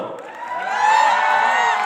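A talk show audience cheers and shouts, a crowd noise that rises and holds steady for a couple of seconds with no single voice standing out.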